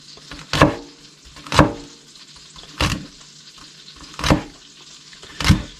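Butter frying in pans off to the side while lobster rolls are prepared, heard as a steady background sizzle with five sharp, louder bursts of spattering spaced roughly a second apart.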